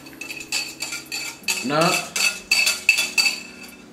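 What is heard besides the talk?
beating Haitian cake batter with butter and sugar in bowl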